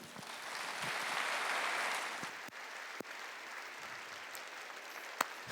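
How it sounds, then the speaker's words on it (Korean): Church congregation claps together in a large hall during a Korean worship service, a steady wash of applause that swells, holds for about two seconds, then thins out to scattered claps and a few sharp knocks. "하나님께 박수 칩시다"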